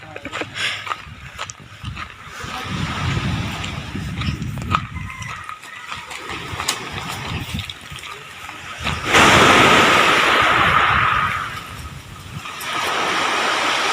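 Ocean waves wash onto a beach, with a steady rush of surf that swells loudly midway and then eases back, set against wind and faint background activity.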